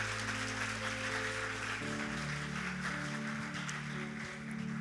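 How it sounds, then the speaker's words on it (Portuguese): A church congregation applauds during a Sunday morning celebration service, a steady wash of clapping lasting throughout over sustained instrumental tones. "Você pode aplaudir o Senhor pela sua palavra nessa manhã"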